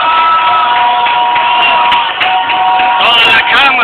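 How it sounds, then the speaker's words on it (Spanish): A crowd at a football penalty celebration shouts and cheers continuously and loudly, with a few higher whoops toward the end. "Toda la cámara empieza a gritar."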